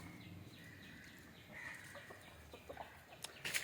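Free-range country chickens cluck softly and intermittently in a backyard coop, faint and somewhat distant against a low outdoor background, with a few sharper calls near the end.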